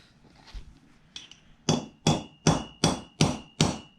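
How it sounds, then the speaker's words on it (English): A hammer strikes a flat chisel into the rear axle seal of a 2014-on Chevy/GMC 2500/3500 truck: after a few light taps, six loud, evenly spaced metallic blows ring close by. "I'm just going to use a flat chisel here."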